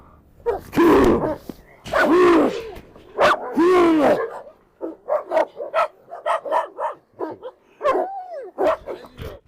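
Several dogs bark loudly and excitedly at an animal, a burst of overlapping barks and yips followed by a quicker run of sharp, clipped barks with a whimpering edge, close and with no talk.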